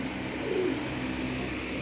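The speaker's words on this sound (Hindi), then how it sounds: "सादे सादे कबूतर हैं, मेरे पास रंगीन कबूतर नहीं है, सादे कबूतर रखे हैं मैंने।" Plain domestic flying pigeons cooing softly, low and steady at a moderate distance, against a constant background hum with no one speaking.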